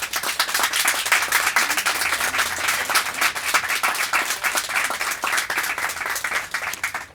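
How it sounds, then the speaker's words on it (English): A crowd gathered for the launch of free Wi-Fi programs for public housing in Revere keeps up a lively, uneven round of applause for over seven seconds, many separate hand claps crackling close by with no voices over them. "Can we just get one more round of applause?"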